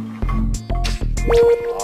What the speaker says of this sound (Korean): 탄력 비교를 위해 아기 피부와 60대 피부에 물방울을 떨어뜨려 보네요